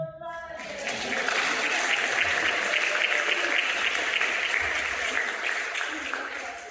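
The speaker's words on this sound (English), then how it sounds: "Give her a round of applause." A panel discussion audience gives a round of applause, swelling in quickly and holding as a dense, even clatter before tapering slightly at the end.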